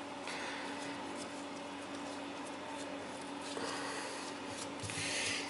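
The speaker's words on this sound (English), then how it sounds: "You put a little bit of lube on there" Plumber's grease being rubbed onto a Delta kitchen faucet part makes a steady, close, soft rubbing and smearing sound that runs continuously, with a slightly louder scrape near the end.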